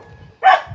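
A dog on a walk through an outdoor nursery area lets out a single short, fairly loud bark close by, with quiet background before it.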